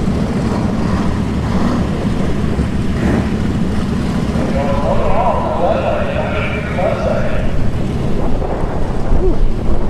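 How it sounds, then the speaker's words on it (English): Gusty wind at Bradenton Motorsports Park during a drag racing event, heard as a steady, loud broadband rumble and hiss that swells slightly midway and continues for the whole stretch. "Ooh, wind is picking up."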